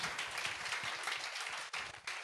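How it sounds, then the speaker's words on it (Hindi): A church congregation at a Hindi-language prayer service claps loudly together, a busy, continuous patter of many hands with a brief dip near the end before the clapping resumes. "जोर से तालियों के साथ"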